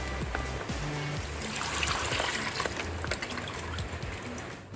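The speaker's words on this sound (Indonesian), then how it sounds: "Sekarang tinggal kita buang ke dalam ember airnya." Water pours out into a bucket after sterilizing a betta fish container, a continuous splashing trickle at close range.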